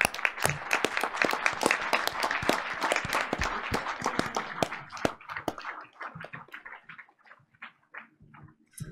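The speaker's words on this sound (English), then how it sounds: "Let's get one more round of applause," An audience at a Board of Education meeting claps in a dense round of applause that thins into scattered, fading claps over several seconds.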